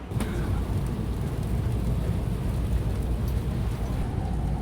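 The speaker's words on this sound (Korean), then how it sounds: "갑자기 비가 엄청 내리기 시작했어요" Heavy rain pours suddenly on a street in Taiwan, a dense, steady rumbling roar with no talk.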